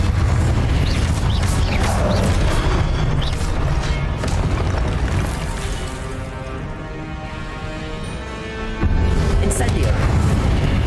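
Fire spell Incendio cast repeatedly during combat in Hogwarts Legacy, heard as loud booming blasts and crackling bursts over constant game noise, with a brief dip in intensity before another heavy surge; a voice calls out over it.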